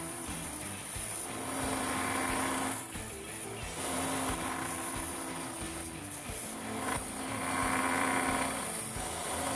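A CS:GO butterfly knife replica blade is sharpened, producing a continuous loud grinding rasp with slight surges and dips across the whole stretch.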